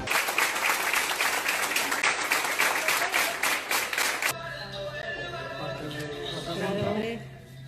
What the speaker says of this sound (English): Here is another footage of one of those cab drivers receiving a round of applause from the doctors of Spain.